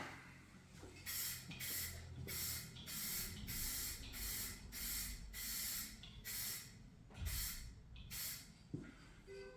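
An aerosol can sprays paint onto an Air Design hood scoop for a 2019-or-newer GMC Sierra 1500 in about a dozen short, evenly spaced hissing bursts, close and fairly loud, with no talking.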